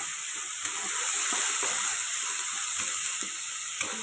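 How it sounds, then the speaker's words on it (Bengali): Garlic and ginger paste sizzles in hot oil, a steady bright hiss with a few soft stirring taps and scrapes, close-up and without talking. "ভালো করে মশলাটাকে তেলের মধ্যে নাড়াচাড়া করবো যাতে না কাঁচা গন্ধটা বেরোয়।"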